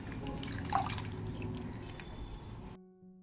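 Chopped vegetables for a mixed vegetable curry are washed in water, with soft splashing and dripping up close before stopping abruptly.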